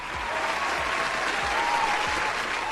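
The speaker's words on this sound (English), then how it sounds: "I'll give him a round of applause." A round of applause rises in response to a man's remarks, a dense steady wash of clapping that holds at an even level from start to finish with faint background voices.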